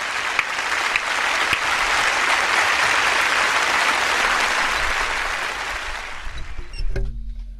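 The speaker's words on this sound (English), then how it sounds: "Round of applause" Sustained, loud applause from a large crowd that fades toward the end, trailing off into a few scattered claps and a faint voice.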